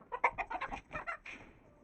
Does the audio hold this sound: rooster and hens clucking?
yes